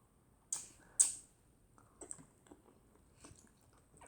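Close chewing and biting during a noodle mukbang, with two sharp crunchy bites and then softer, irregular mouth sounds.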